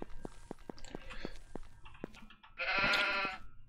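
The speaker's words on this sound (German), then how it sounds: "Immer dieser Schaf hier." Sheep bleating in the video game Minetest: a loud, harmonic bleat near the end, preceded by scattered clicky steps and fainter animal calls.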